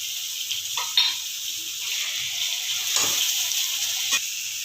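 Tomatoes sautéing with onions and rock salt in a pan sizzle in a steady hiss, broken by a few scraping stirs and soft clinks of a spatula.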